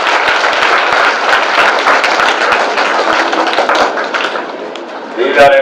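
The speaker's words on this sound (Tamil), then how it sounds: "கலை மாமணி முனைவர் முத்து ஐயா அவர்களை அன்போடு நாம் அனைவரின் கைத்தட்டலோடு வரவேற்கின்றோம்" An audience at a Women's Day event held at a college in Puducherry applauds to welcome a speaker, giving loud, dense, sustained clapping that tapers slightly near the end.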